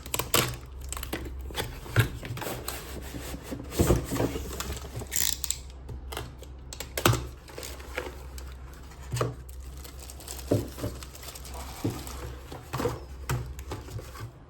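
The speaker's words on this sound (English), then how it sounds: "Let's go ahead and unbox the unit." Unboxing JBL Stage2 65CF 6.5-inch component speakers: close, scattered clicks, taps and rustles of packaging and parts being handled, irregular and fairly soft, with no talking.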